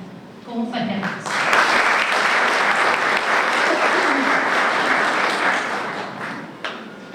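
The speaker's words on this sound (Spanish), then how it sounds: "Con un fuerte aplauso." Loud, sustained applause from a panel audience fills most of the stretch, rising quickly after a brief Spanish-speaking voice at the start and tapering near the end.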